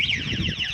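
An electronic bicycle horn wails in a warbling, siren-like tone, loud and close, repeating its rising and falling sweep for under a second.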